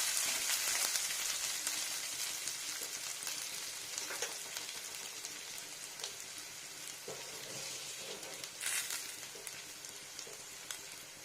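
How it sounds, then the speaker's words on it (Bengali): Chopped garlic fries in a pan over already-fried onion, giving a soft, steady sizzle with faint popping crackles, fairly quiet and without any voices. "এখানে দিয়ে নেবো রসুন এটা হচ্ছে রসুন কুচানো রসুনটাকে ফ্রাই করি"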